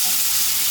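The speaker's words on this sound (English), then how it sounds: "I can cook all the kimchi just a little bit in that oil" Kimchi frying in hot oil gives a steady, loud, close sizzle, a continuous bright crackle with no pauses and no voices over it.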